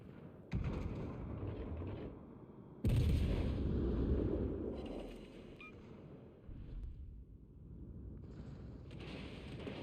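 Naval guns fire and shells strike ship turrets in a video game. Heavy booms and rumbling blasts come in bursts, one big impact rolling on for seconds, with no voices over them.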